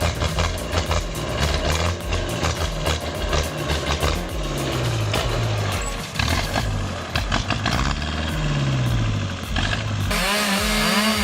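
A Husqvarna chainsaw cuts into a big tree, its high engine revving loud and close, rising and bogging down repeatedly as the chain bites through the wood.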